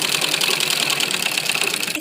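Close, continuous whir and rapid rhythmic clatter of a sewing machine stitching the pocket of a men's kurta, steady throughout with no talking.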